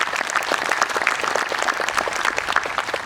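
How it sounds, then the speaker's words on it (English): An audience at a middle college class of 2021 graduation ceremony applauds, a sustained, even patter of many hands clapping with no break. "I want to give them a round of applause."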